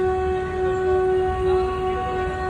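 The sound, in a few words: train horn of an approaching train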